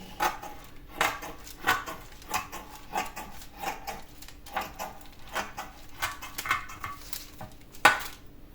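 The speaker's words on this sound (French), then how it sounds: "Je les coupe en petits carrés." A knife cuts pastry into small squares on a board, giving a run of sharp, evenly spaced taps and clicks at close range with no talking.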